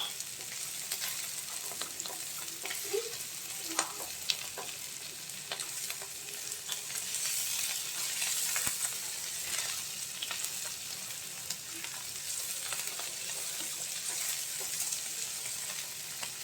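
Mixed vegetables of teasel gourd, bitter gourd, potato and beans sizzle in a pan, a steady crackling fry with occasional stirring scrapes, close and continuous without talk.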